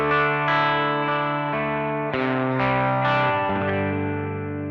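Distorted electric guitar through a Laney Ironheart amp pedal with the cab IRs switched off, several sustained chords ringing harsh, buzzy and nasal, close and loud with a chorus-like shimmer, alone without talk.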